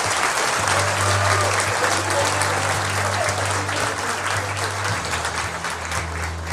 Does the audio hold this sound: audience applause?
yes